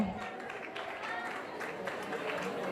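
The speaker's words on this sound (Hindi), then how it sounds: "एक बार तालियां हमारे नेक्स्ट अतिथि अनिल जैन को अंकल के लिए" Audience clapping for an arriving guest at a Jain community gathering in Indore, a steady spread of applause from a crowd under a voice speaking over a loudspeaker.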